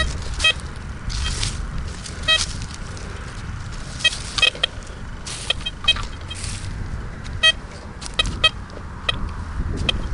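A Blisstool v3 metal detector sweeps a ploughed field, giving repeated short high-pitched signal beeps and chirps over a steady rumbling background of wind and handling noise.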